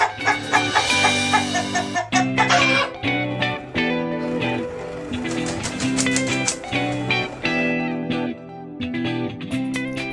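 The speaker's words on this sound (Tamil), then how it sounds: "சேவல்." A rooster crows and clucks in repeated bursts over loud, continuous background music in a children's farm-animal names setting.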